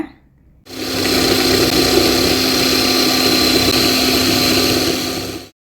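An electric coconut grating machine runs with a loud, steady motor whine and hum that starts abruptly after a brief quiet moment and keeps going evenly to the end.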